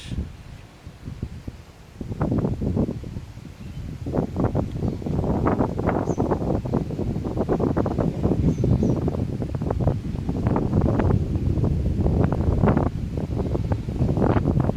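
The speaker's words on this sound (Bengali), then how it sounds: "অনেক বাতাস" Strong wind over open rice paddies at a wetland buffets the microphone in heavy, continuous gusts, a loud low roar that rises and falls without pause.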